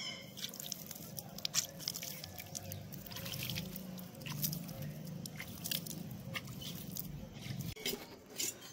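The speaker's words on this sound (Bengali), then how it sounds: "আর অল্প করে একটু জল ছিটিয়ে দেবো" Water is sprinkled lightly over a potted white aparajita seedling freshly topped with new soil, giving a scattered run of soft drips and patters that lasts several seconds at close range, with no voices.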